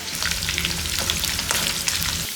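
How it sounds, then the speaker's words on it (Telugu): Square pieces of paneer fry in oil for chilli paneer, giving a continuous loud crackling sizzle up close, with occasional light spoon stirring. "ఈ విధంగా చక్కగా నూనెలో పన్నీర్ పీసెస్ని వేగించుకోవాలి."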